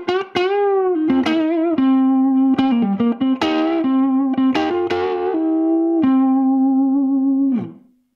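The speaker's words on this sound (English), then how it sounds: "Preset 1 is based on a 1958 Les Paul, and it sounds like this." Gibson Dusk Tiger electric guitar on a preset modeled on a 1958 Les Paul, playing a loud, clean lead line of sustained single notes with bends and quick picked runs that fades out at the end.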